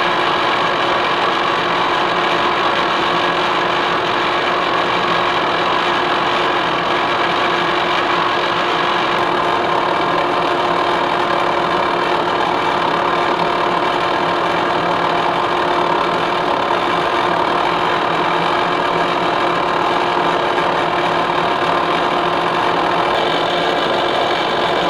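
Horizontal boring mill cutting a heat exchanger plate at slow spindle speed with an increased feed, a loud continuous machining drone with a steady mechanical hum and faint rhythmic chatter, unchanging throughout with no talking.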